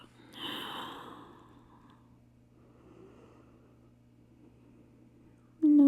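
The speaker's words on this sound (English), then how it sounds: "Take a deep breath in through the nose and a long, deep breath out." A slow, soft breath during a calming yoga practice on a mat, a gentle airy inhale swelling then trailing off into a long quiet exhale, close and faint, ending with a sudden louder sound.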